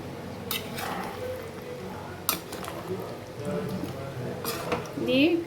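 Capsicum and onion fried in ghee are tipped into a pan of chicken: sharp metallic clinks of a spoon against the pan and soft wet squishing, with a voice talking over it.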